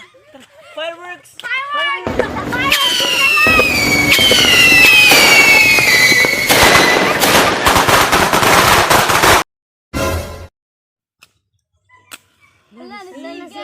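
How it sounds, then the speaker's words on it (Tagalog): New Year's fireworks and firecrackers go off in a long, loud barrage of rapid cracks, bangs and whistles, with children's voices before and after the blasts. "Fireworks!"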